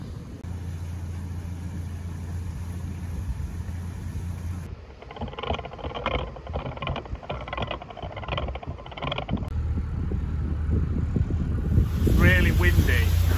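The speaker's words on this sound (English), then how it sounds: "Really windy." Steady rumbling wind noise buffets the microphone throughout, with gusty swells and a motor-like drone underneath.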